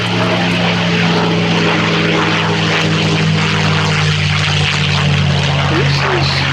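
Boeing B-17G Flying Fortress bomber rolling at the Duxford summer air show, its piston engines and propellers giving a steady, loud, unbroken drone with a low hum throughout, no speech.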